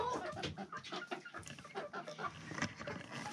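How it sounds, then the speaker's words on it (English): Chickens clucking in a coop, a steady stream of close, overlapping clucks and soft calls from a small huddled group of newly arrived birds. "The new chickens tend to stay huddled together here inside the coop."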